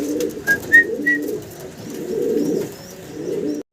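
A pair of Kashmiri Lotan pigeons, fancy birds with large leg feathers, cooing in low, throaty bursts close by, with a few sharp chirps early on and no talking.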